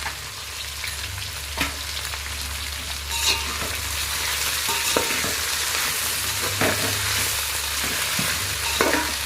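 Mixed vegetable rice stirred in a hot pan, a loud steady sizzle with repeated scraping spatula strokes spaced every second or two over a low hum.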